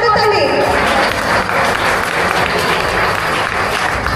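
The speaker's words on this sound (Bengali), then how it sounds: "একবার জোরে করতালি।" An audience at a large Amarnath Yatra gathering in a hall claps together, a dense, loud, steady wall of applause that fills the whole short stretch.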